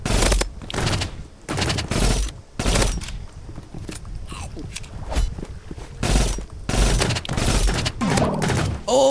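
Loud bursts of rapid gunfire in the Roblox game Rivals come in repeated volleys with brief pauses between them, punchy and close, mixed with footsteps and a voice.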